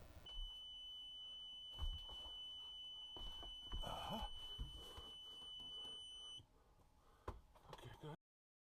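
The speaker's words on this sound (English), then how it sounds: "You heard the alarm." A steady high-pitched electronic beep sounds continuously from a smoke alarm, then cuts off, with scattered handling clunks and thumps around it.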